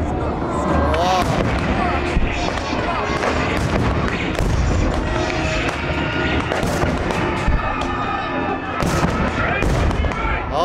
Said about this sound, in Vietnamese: nổ bom rồi, trời ơi, bắn đại bác thiệt luôn